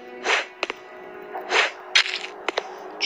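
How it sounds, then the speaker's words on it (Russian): Several whooshing flashlight swipes in a video game each end in wet, sharp smacking blood-splatter impacts, spaced irregularly with short clicks between, like melee hits. "Я когда бью, звук крови исходит."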